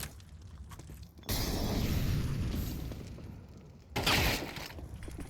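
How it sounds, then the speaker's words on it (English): An HE grenade exploding in a Counter-Strike esports match, a loud booming blast with a rumbling tail, followed a few seconds later by a second sharp burst, with no talking. "He's going to send an HE out to do a little bit of his job instead"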